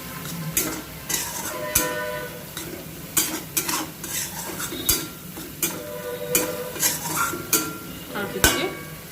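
Tomatoes being stirred and cooked in a pan over a medium flame for a ridge gourd curry: a soft sizzle with repeated scraping and clinking of the spoon against the pan, close by.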